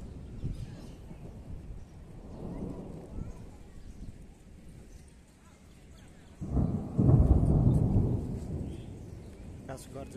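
Thunder rumbles during a rainstorm: a low roll early on, then a louder, deeper, longer rumble building in the second half over a faint steady background.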